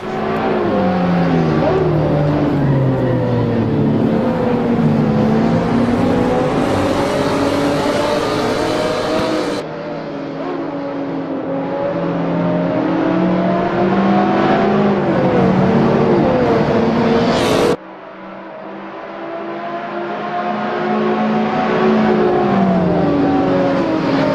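Race cars in Assetto Corsa on PC roar through a six-minute race, a loud, sustained engine drone rising and falling in pitch through gear changes, with a couple of abrupt cuts in the sound.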